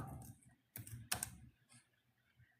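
Short bursts of typing on a computer keyboard, a few quick clusters of close key clicks separated by brief pauses, with no talking.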